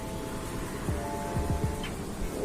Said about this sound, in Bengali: দেখুন এখান থেকে বৃষ্টি হচ্ছে